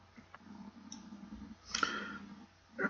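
Clicking keystrokes on a computer keyboard while adding a DNS zone, with scattered soft taps and a brief louder burst of clicks, close and fairly quiet over low background hum.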